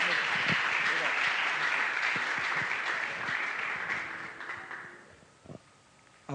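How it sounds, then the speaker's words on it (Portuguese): A church congregation applauds steadily for several seconds, the clapping gradually thinning out and fading toward the end. "Você pode aplaudir ao Senhor pela vida do nosso amado querido aqui?"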